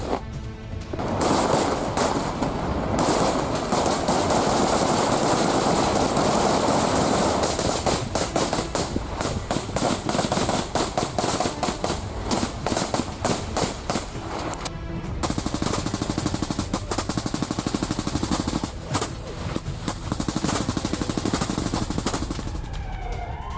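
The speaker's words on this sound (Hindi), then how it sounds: "फायरिंग कर सीसीटीवी भी किया गया है तबाह" Sustained gunfire from a Hezbollah attack on an Israeli border post, dense rapid bursts of shots and cracks that continue for more than twenty seconds with short pauses, loud and close.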